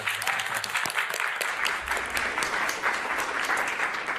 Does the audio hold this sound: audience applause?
yes